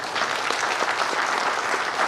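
A crowd at a Maratha community gathering in Chiplun, Ratnagiri claps together in dense, sustained applause, loud and even throughout with no talk over it.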